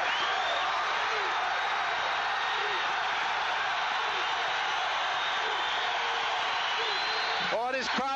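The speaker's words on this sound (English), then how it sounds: "This crowd's in a frenzy." Basketball arena crowd in a frenzy at a 1988-89 college game, Michigan at Iowa, a steady dense roar of many voices filling the hall, with a few shrill whistles near the end.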